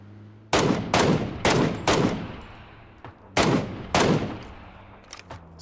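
Rapid bursts of gunfire in the PUBG battle royale shooter on the snowy Vikendi map: several loud, close shots, some closely spaced in quick succession, then a pause and more shots, plus a few fainter pops near the end.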